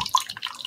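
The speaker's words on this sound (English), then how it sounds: "That's when the bubbles go back up into the plastic thing." A water jug bubbling as water is drawn off, a quick run of small close gurgles and drips with faint bursts of air rising back into the plastic container.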